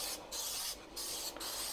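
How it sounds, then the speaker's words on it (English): Seed oil cooking spray hisses into a muffin tin for baking pumpkin muffins, three close bursts of spray, the first two longer and the last one brief, separated by short pauses. "I know this spray is seed oil."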